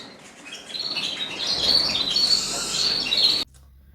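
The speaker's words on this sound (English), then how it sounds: "The birds that I keep are zebra finches, native from Australia." Zebra finches chirp and twitter in a busy, overlapping chorus of high, quick calls that cuts off abruptly near the end.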